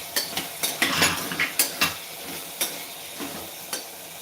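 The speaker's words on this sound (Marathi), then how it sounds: "चवीपुरता मीठ टाकून देऊ मिक्स करून घ्यायचं ते मिक्स करून घेऊया त्याला" A spoon stirring a salted vegetable mixture in a metal pan, rapid clinks and scrapes in an irregular rhythm over a faint sizzle, close by.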